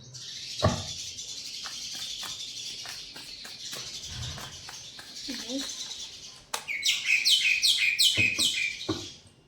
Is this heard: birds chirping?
yes